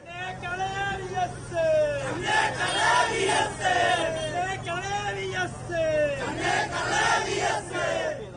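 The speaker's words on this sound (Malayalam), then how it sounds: "പെരുമഴയെ തോൽപ്പിച്ചും സമയത്തെ അവഗണിച്ചും ജനക്കൂട്ടം കണ്ഠമിടറി മുദ്രാവാക്യം വിളിച്ചാണ് പ്രിയ സഖാവിന് അന്ത്യാഞ്ജലി അർപ്പിച്ചത്" A mourning crowd chants slogans together at VS Achuthanandan's funeral procession in heavy rain, loud rhythmic call-and-response voices rising and falling close by over a steady rumble.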